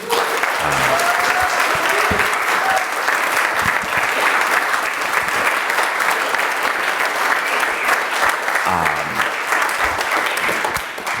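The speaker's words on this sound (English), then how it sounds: "can we just give Mikki Morrissette a round of applause?" Sustained audience applause for Mikki Morrissette at a community gathering, a dense, even wash of many hands clapping for several seconds, with a voice briefly heard near the start and again near the end.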